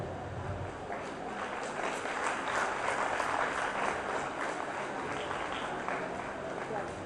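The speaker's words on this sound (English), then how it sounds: "encouraged with great applause." Audience applause at a school awards ceremony for meritorious students, a broad crowd of clapping heard from a distance, soft and sustained, swelling slightly in the middle before settling.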